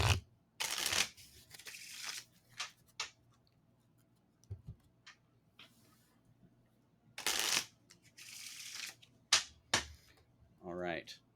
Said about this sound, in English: If you've shuffled as much as you feel you want to shuffle